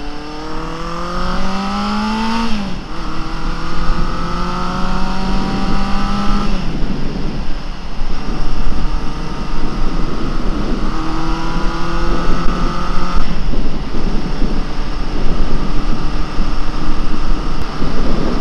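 A Honda CB750F café racer motorcycle revs loudly while being ridden, its engine pitch climbing and dropping through repeated gear changes over a steady wind-buffeted roar, close and continuous without talk.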